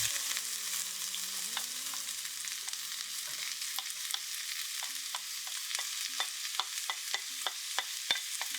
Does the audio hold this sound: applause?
no